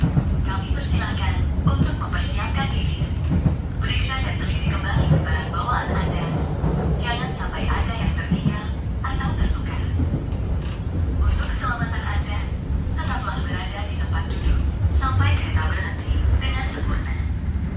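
The Gumarang business-class train runs from Jakarta toward Surabaya with a continuous rumble and rattle of the carriage. Voices talk over the rolling noise throughout.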